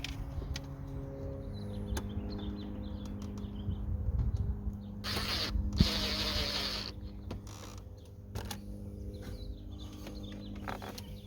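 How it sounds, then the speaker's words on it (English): Ratchet clicking as bolts are tightened back into a VW New Beetle during cabin work, quiet rapid clicks in short bursts with a brief louder rustle, no talking. "Just gotta put all the bolts back in."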